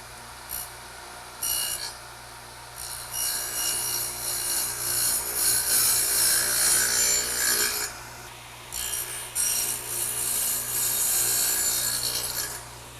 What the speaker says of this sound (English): now let's turn it over and dado out for the shelf.